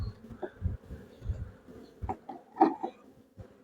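Honey bees buzz around an open beehive during hive work, a low droning hum with scattered louder passes of individual bees close by.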